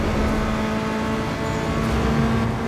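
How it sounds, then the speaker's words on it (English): Toyota Celica engine from Need for Speed Underground 2 droning steadily at high revs during a race, a constant loud hum with a strong tonal note and no gaps. "the Celica sounds fire"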